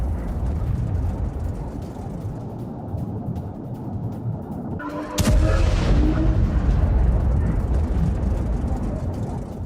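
A Russian strike targeting an oil refinery in Ivano sets off a massive explosion that damages a gas pipeline: a sudden, sharp blast cuts through steady background rumble and leaves a loud, sustained roar behind it.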